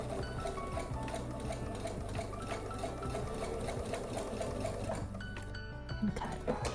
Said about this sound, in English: I'm going to start about halfway, and then I'm going to just sew until the end.